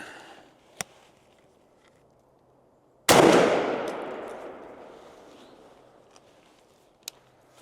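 A turkey shotgun fires a Jebs 560 TSS number 7 shot load in a single loud outdoor blast that fades into a long decaying echo, with faint clicks and handling noises before and after.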